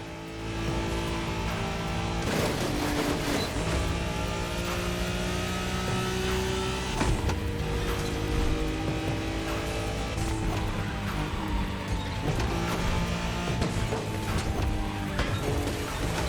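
A race car in The Crew Motorfest drives hard, its engine droning and revving steadily with rising and falling pitch through gear shifts, loud and close for the whole stretch.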